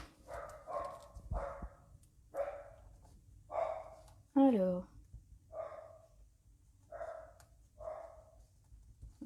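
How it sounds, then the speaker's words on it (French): Dogs bark repeatedly in a steady series of short barks, somewhat distant, with a higher yelp in the middle and a brief spoken word early on. "Désolée pour les chiens qui aboient."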